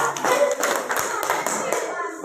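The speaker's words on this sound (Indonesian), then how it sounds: "Tepuk tangan untuk kita semua." A group claps together at the close of a coaching workshop session, a short, moderately loud burst of hand claps with indistinct voices mixed in.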